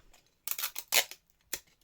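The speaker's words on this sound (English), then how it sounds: "I'm going to cut these strings off because we've got too much." Scissors cut through strings in a few quick, close snips, crisp and sharp, with short pauses between them.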